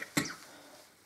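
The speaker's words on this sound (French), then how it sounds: "je vais tousser assez régulièrement" A single short cough, close and fairly soft, followed by quiet room noise.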